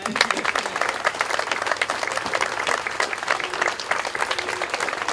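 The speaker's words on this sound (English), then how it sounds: "And give yourselves another big round of applause." Crowd of volunteers applauds outdoors at a community playground build, dense steady clapping lasting the whole stretch with no talk over it.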